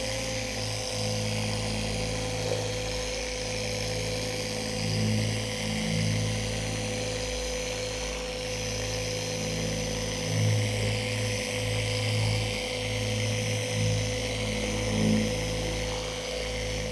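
A machine polisher with a soft pad spreads paint sealant across a car's paintwork, giving a steady, close whirring drone with a low hum underneath and slight rises and dips as the pad moves.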